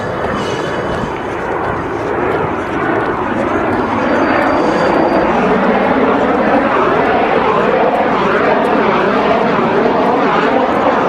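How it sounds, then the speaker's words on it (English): A Boeing airliner passes low overhead, a loud, broad roaring rumble with a slowly shifting whine that holds strong for the whole stretch, close and alone. "But to be flown over by another Boeing."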